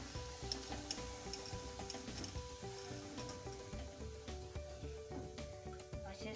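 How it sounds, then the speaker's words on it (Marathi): Sabudana vadas deep-frying in hot oil, giving a steady, busy sizzle with crackling pops throughout, fairly close and continuous with no voices. "असे सगळे वडे तळून घेऊ"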